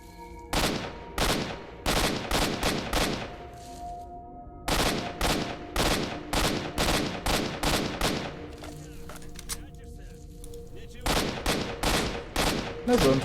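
Repeated bursts of gunfire from STALKER: Shadow of Chernobyl, clustered volleys of sharp shots separated by brief pauses, loud and close, with a faint background hum.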